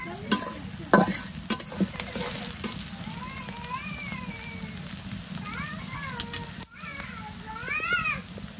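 Onions frying in a pan for a home-cooked meal, a steady broadband sizzle with scraping stirs near the start, while someone talks over it and a child's or bird-like chirps rise in the background.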